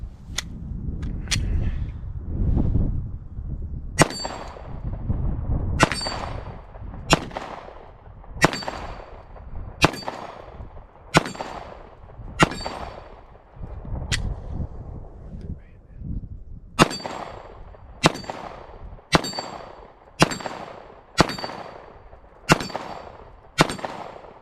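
Sharp pistol shots from a Glock 19X at an outdoor range, fired at a small 8-inch steel plate, about fifteen loud reports in uneven bursts, most followed by a bright ringing clang from the struck steel.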